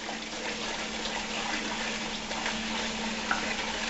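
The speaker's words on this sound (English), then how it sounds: "So now our water is boiling" A pot of water boiling on a stove for making peach wine as sugar is stirred in, giving a soft, steady bubbling hiss with a low constant hum and a faint clink near the end.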